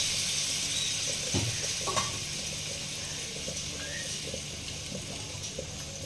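Water goes into a pan of papaya and potato curry, giving a soft, steady sizzle and bubbling with a few faint clinks, fairly quiet throughout.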